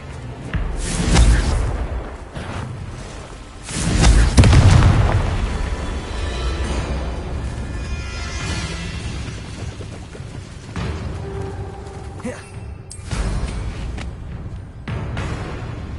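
A Confringo fire spell in Hogwarts Legacy explodes in two heavy booming blasts a few seconds apart, followed by a lingering rumble and lighter combat noise.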